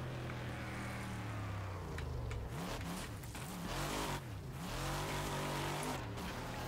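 A race car in the demolition racing game Wreckfest revs and drifts, its engine droning steadily and then wavering up and down in pitch as the car slides, with tire noise layered over a constant roar.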